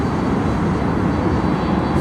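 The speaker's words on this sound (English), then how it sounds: "787-8 Dreamliner" An American Airlines Boeing 787-8 Dreamliner passes at Miami airport, a steady broad rumbling roar of jet engines at close range, with no talking.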